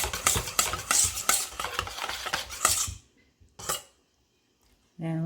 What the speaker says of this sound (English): So we'll mix our butter well until all the lumps are done.